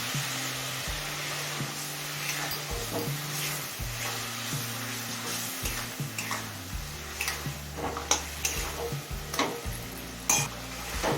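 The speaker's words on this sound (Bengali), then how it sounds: "জল দিয়ে সমস্ত মশলাটা মিশিয়ে নিয়েছি এবার দিচ্ছি অর্ধেকটা রুই মাছের মাথা" Spiced rohu fish head curry frying in a pan while being stirred, with a steady sizzle, scattered ticking scrapes of the spoon and a low background hum, fairly quiet and close.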